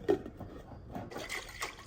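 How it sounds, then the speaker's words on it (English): Water is poured into yogurt in a kitchen, a brief soft splash and trickle, faint and close. "I'm just gonna put water"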